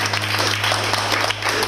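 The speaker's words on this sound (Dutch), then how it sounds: "een applaus voor dit" Audience applause at the final of a Dutch spelling dictation contest, a steady dense clapping wash from a crowd that holds for under two seconds with no talk over it.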